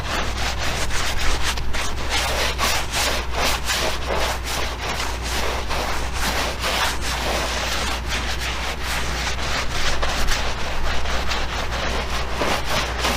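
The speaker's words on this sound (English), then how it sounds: "Really scrub the tire really good." A brush soaked in Dawn and Simple Green scrubs a car tire in steady, close, rapid strokes, making a continuous harsh rubbing and swishing.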